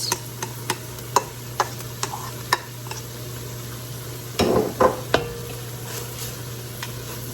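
Chopped white onion stirred into a pot of pumpkin chili, a low simmer under repeated sharp spoon taps on the pot rim and a few scraping stir strokes, close by.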